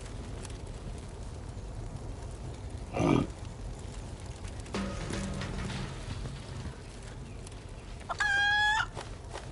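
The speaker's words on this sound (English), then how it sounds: "Stupid chicken." Chickens in the video game Final Fantasy 7 Rebirth cluck and squawk amid a constant ambient background, with one sharp cluck early, a longer mid-clip call and a final stuttering squawk at the end.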